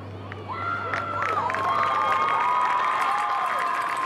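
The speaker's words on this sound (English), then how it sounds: "Let's give these seniors one more round of applause" Seniors at a JC vs. Fayette Academy event receive applause from a crowd, with clapping swelling in and shrill cheers and shouts rising over it, moderately distant and sustained.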